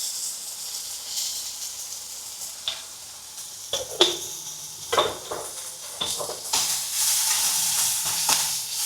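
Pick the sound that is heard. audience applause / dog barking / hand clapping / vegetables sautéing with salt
vegetables sautéing with salt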